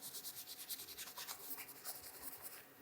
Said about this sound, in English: I'm just going to try wiping off the excess with some acetone